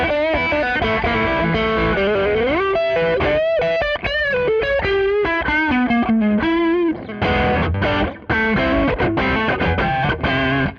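An electric guitar runs through a Tube Screamer TS10 overdrive pedal, playing a boosted lead line of sustained, bending notes and quick runs with mild grit, loud and up close.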